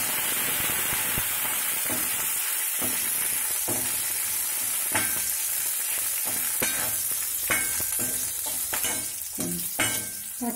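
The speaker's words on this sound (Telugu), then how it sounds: "ఆయిల్ వేసాక ధనియాలు, జీలకర్ర వేద్దాం." Coriander seeds and cumin fry in hot oil for a bottle gourd chutney, giving a continuous hiss of sizzling with crackles, pops and occasional scraping stirs, close and steady.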